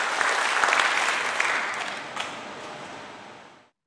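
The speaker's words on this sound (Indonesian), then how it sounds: "Beri tepuk tangan bagi Tuhan." A church congregation claps during a worship service: dense, steady applause from many hands, loud at first and then gradually thinning and fading out over a few seconds, with no talk over it.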